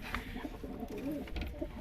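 Soft, low pigeon coos repeat close by, a gentle burbling rhythm with faint rustling around it.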